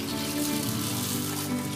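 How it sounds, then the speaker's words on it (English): Sabudana tapioca pearls are washed by hand in a vessel of water, a short, steady swishing and sloshing close by with no talking. "Put ample amount of water and wash it very nicely."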